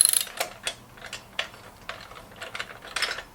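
A ratchet socket wrench tightens bolts while a VEVOR 3-in-1 hand trolley cart is assembled, giving close, crisp bursts of clicking at an irregular pace with short pauses between strokes.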